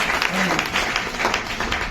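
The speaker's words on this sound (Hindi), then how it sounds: "जोरदार ताली बजाएं।" A church congregation at a Hindi-language worship service claps loudly and steadily in a dense wash of applause, with a voice heard over it.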